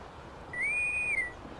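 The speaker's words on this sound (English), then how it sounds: "It also allows you to send ship-wide whistles." A single ship-wide whistle in the pirate game Puzzle Pirates, a clear bright tone sliding up, holding steady for about half a second, then dropping away, alone over quiet background hiss.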